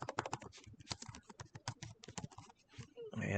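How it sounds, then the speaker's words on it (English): Someone types text on a computer keyboard, a quick close-miked run of crisp key clicks in uneven bursts with brief pauses, ending on a slightly louder rustle. "type in Green Machine"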